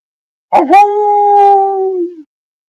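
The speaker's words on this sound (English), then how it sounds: "That hound bark too." A hound dog gives a single loud, close bark that stretches into a sustained howl lasting over a second before it cuts off, with silence on either side.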